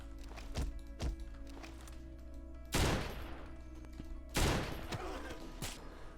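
Gunfire in the online shooter Blockade 3D, two sharp, loud shots about two seconds apart stand out over a steady game background hum, with several fainter, duller thuds and taps before them.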